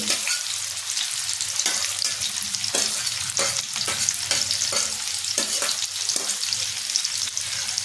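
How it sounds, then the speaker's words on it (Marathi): Onion and green chili frying in a pan for a dried-fish fry, a steady close sizzle with intermittent stirring clicks and scrapes throughout, no talking. "कांदा वगैरे टाकायचा आहे. कांदा टाकलेला आहे. कांदा, मिरची"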